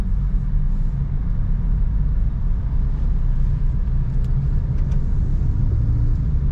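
Car pulling away after a shift into second gear on a town road near Kudus, a steady low engine rumble with road noise throughout, loud and close.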